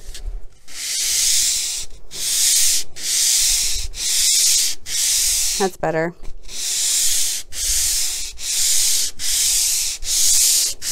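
Power sander with a medium Surfprep pad running over a painted cabinet top, a loud, close, steady whirring hiss broken into roughly ten passes by short pauses, with a brief spoken remark in the middle.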